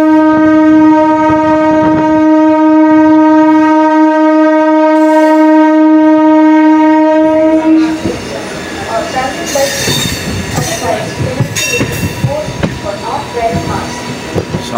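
A train pulling into Santragachi station sounds a long, loud steady horn for about eight seconds, then gives way to rumbling wheels, clanking cars and sharp metallic squeals as it rolls in close by.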